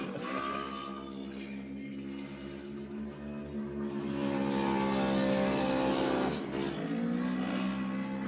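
Side-by-side race car engine at a Durhamtown SXS race, a loud steady roar with layered harmonics that holds under load, swells louder midway and dips briefly before climbing again.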